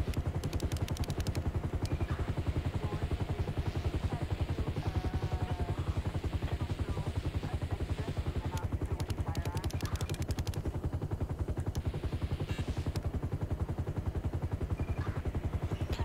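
Helicopter in the video game GTA V: a steady, fast rotor chop drones throughout, with scattered clattering bursts like gunfire layered over it.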